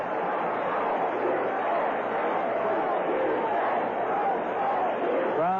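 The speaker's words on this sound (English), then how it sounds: "Crowd settling back now." A baseball stadium crowd during the Mets vs Astros NLCS Game 6 murmurs steadily after a play, a dense, even roar of many distant voices with no single sound standing out.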